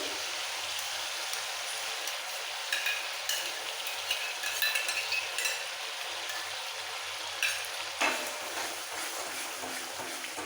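Spice masala with whisked sour yogurt stir-fried in oil for a Bengali doi pomfret fish curry, giving a steady soft sizzle with scattered scraping stirs and clinks, close and continuous with no talking.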